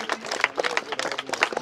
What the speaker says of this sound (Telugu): clap clap clap well